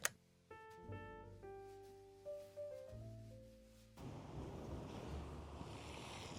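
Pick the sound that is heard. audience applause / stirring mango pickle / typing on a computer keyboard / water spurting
water spurting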